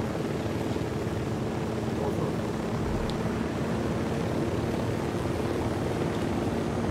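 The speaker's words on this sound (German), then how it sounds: "Halt mal Abstand vom Heli und schau mal, ob der da landet" A helicopter flies in the video game Ghost Recon Wildlands, its rotor and engine droning as a steady low rumble throughout, with a continuous background wash and no pause.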